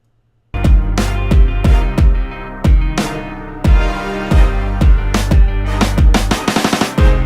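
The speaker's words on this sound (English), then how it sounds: "And the final mix down" Final mixdown of a track from an EP, playing loud and full with punchy regular drum hits under layered synths and bass, building to a dense roll near the end.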